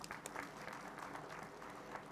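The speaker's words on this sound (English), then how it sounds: "I once again give a round of applause to this" Applause from a seated audience at a pharmacology conference in India, steady and moderate, filling the short stretch with no voices on top.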